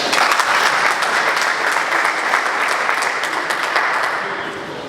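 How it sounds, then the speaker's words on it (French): Sustained applause from an audience at a press conference for Vodacom and Itel in South Kivu, a dense, steady wash of clapping that stays loud throughout and eases slightly toward the end. "Est-ce que vous ne pouvez pas applaudir pour ces mariages?"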